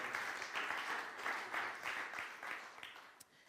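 A church congregation at an Easter service applauds, a dense even wash of clapping from many people in a hall that gradually thins and fades toward the end.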